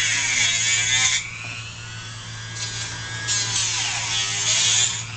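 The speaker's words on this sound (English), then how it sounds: "Going to take the Dremel, sand that out." Dremel rotary tool sanding plastic on a Nerf Stormfire blaster, a steady close high-pitched whir with shifting load as the bit bites in and eases off, running continuously with no talking.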